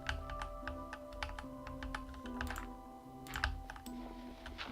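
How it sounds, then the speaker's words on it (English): Rapid clicking of computer keyboard keys during a Minecraft game session, a steady run of close, crisp taps with occasional louder clusters, over a low background hum with no voices. "it's like an ASMR stream because of all this keyboard noise"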